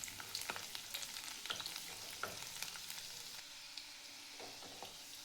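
Garlic sizzles and crackles steadily in hot oil, with occasional sharper pops and stirring scrapes standing out over a constant hiss, fairly faint and with no voices.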